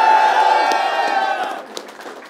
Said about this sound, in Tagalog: isang malakas na sigawan para sa mga tropa!